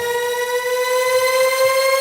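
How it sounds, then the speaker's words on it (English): A tornado siren sound effect rings out as a steady, loud, piercing tone with strong harmonics, held evenly for about two seconds, alone without voices. "Sound the tornado sirens. Do you hear it?"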